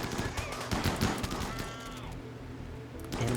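Chain shotguns fire in a RimWorld battle, a quick rattling string of fairly quiet shots over game background sound, with a brief lull before more firing resumes at the end.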